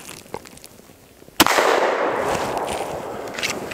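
A single sharp Glock 20 10mm pistol shot firing a 155 grain bullet cracks out loud and close, followed by a long, bright, noisy ring and outdoor rumble that slowly tapers.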